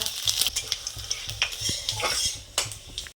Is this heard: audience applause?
no